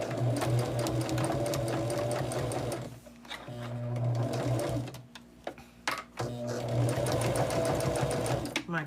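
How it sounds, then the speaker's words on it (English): A sewing machine stitches a quilted bag in two steady bursts of rapid motor-driven whirring, pausing briefly in between with faint handling clicks, close and clear. "I'm going to come back to my machine and I am going to do a 1/2 inch stitch."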